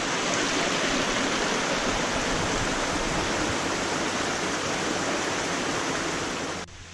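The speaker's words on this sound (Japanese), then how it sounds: "湧水ですね。" Cold spring water gushes from a source beside a mountain trail on Gozendake, a steady close rushing and splashing that carries on evenly before cutting off just before the end.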